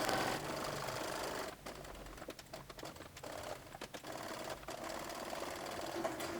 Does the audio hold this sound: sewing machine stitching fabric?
yes